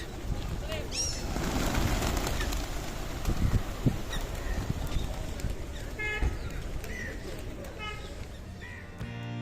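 Pigeons crowd the entrance gate of the Hazratbal shrine in Srinagar, with soft bird calls and coos rising faintly through an open-air wash of distant voices and bustle.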